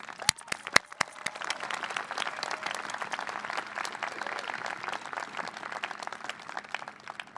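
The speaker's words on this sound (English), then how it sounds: "Let me ask for another round of applause for Michelle, Garth, Elizabeth, Artie, and B" Applause at a college commencement ceremony at Trinity College, a large crowd clapping steadily with a few sharp individual claps at the start, sustained and fairly distant throughout.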